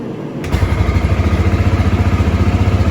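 A 2000 Suzuki Quad Master ATV with a freshly reworked carburetor catches on a pull start at about half a second, then settles into a loud, steady, rapidly pulsing idle close by.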